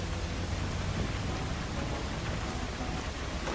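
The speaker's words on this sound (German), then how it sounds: "wie die Regentropfen hier auf dem Dach aufs Dach prasseln" In the video game Mafia 2, steady rain patters on a roof, a dense, even hiss of drops that stays constant and moderately loud, with no voices.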